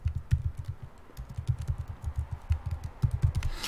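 Rapid, irregular keystrokes on a computer keyboard while entering text in GIMP image-editing software, clattering steadily at close range with no voices.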